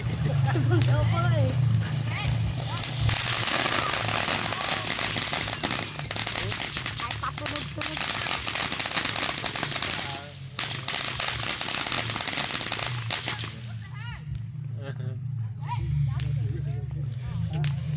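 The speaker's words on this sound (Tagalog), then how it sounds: "Ay, malakas yan. Oo, putok yan." Rapid crackling bursts of firecrackers exploding in dense strings at a New Year's celebration in New Zealand, loud and continuous for several seconds, with people talking over and between them.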